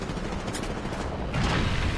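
Gunfire in the video game Apex Legends forms a dense, continuous roar of shots that grows louder partway through, with no voices.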